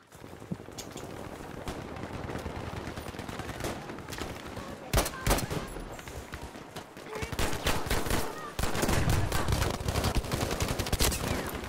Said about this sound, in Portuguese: Tanto tiro de pistola e o gajo não morre.